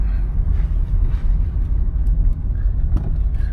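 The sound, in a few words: 1991 Toyota Camry driving down the road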